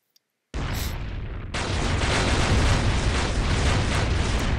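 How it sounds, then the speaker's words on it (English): A defeated tentacled squid boss blows up in the side-scrolling game Shantae: Risky's Revenge, a sudden loud blast that swells into a dense, roaring explosion sustained to the end, with no talking. "Why did he explode?"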